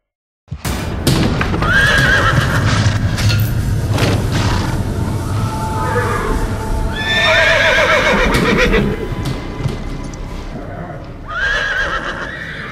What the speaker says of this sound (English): Frantic neighs echoed between the walls, and the horse dripped with sweat.